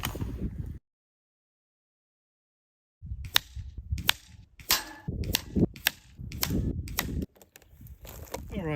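TX200 air rifle shooting pellets, giving a series of sharp, close cracks spaced roughly half a second to a second apart after a silent gap, with voices and movement in between.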